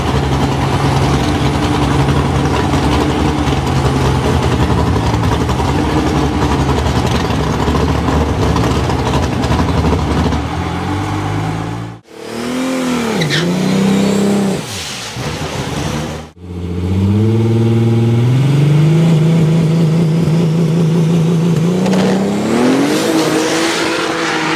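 Big-tire, methanol-fuelled drag racing cars with heavy horsepower idle loudly at the line of a no-prep eighth-mile raceway, engines rumbling steadily, then revving up in rising blips and surges, close and dominant throughout.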